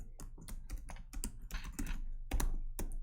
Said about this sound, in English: I will type my administrator and my password